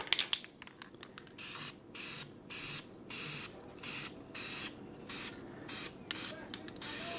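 High-temperature flat black spray paint hisses onto a Honda Spree motorcycle exhaust in about ten short bursts with brief pauses between, close and fairly quiet with no voices.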